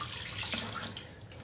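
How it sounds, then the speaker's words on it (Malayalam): Water runs steadily from a kitchen tap into a vessel while rice is washed for making puttu, a continuous close splashing rush with no talking. "നമുക്ക് അരി കഴുകിയെടുക്കാം,"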